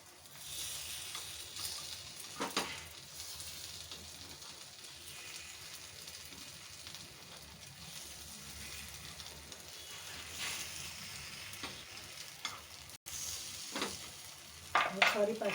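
Appam batter sizzles steadily in a pan over a low-to-medium gas flame, a soft continuous crackle with occasional stirring and utensil clinks, fairly quiet and close.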